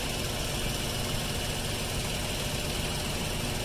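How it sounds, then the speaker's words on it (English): A 6-liter Deutz diesel engine in a tractor idles steadily and loudly, a constant broadband rumble with no change in pitch and no voices. "this is the 6 liter Deutz, the same as what's in the Fendt 720."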